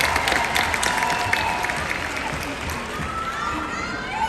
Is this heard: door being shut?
no